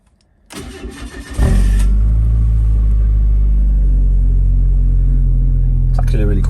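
A close to thirty-year-old automatic Mazda MX5 Eunos starts up nearby. The starter cranks for about a second before the engine catches with a loud rumble and then settles into a steady, deep idle.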